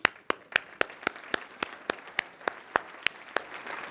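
Sparse claps from an audience honouring financial advisors at a 2017 insurance and investment congress, about a dozen distinct, evenly spaced claps ringing out alone over a quiet room.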